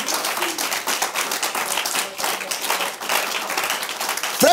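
A church congregation applauds for Jesus during a French-language sermon, with steady, dense clapping that fills the room throughout and stays loud to the end.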